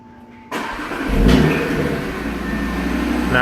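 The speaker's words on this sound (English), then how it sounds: "Doors lock, car is about to turn on." A 2018 Audi RS3 sedan's engine cranks and fires up by remote start, a sudden loud catch followed by a brief rev and then a steady, near idle rumble.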